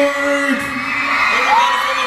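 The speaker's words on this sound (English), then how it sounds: "Everybody's screaming." A concert crowd at a show in Auckland screams and whoops continuously, loud and dense, with piercing high cries rising above the roar throughout.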